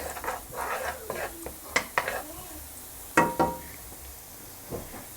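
Minced garlic hits hot oil in a pan and is stirred, a soft sizzle running underneath a few sharper utensil clacks against the pan, close and moderately quiet, with no one speaking.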